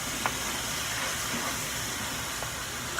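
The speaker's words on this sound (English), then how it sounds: "The ground beef is frying." Steady close-up sizzling and hissing of ground beef frying in a hot pan, continuous with no talking.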